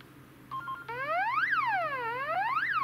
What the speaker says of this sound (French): il met une alarme, et logiquement, on l'entend sur l'autre